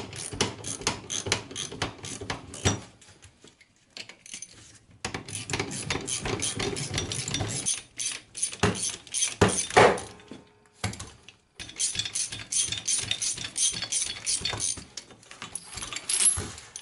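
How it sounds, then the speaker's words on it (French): Two bearings being extracted from a Citroën 11 driveshaft, giving repeated metallic clicking, ratcheting and clanking in close, busy bursts separated by short pauses, with no talking. "j'extrais mes deux roulements que j'avais mis comme ça"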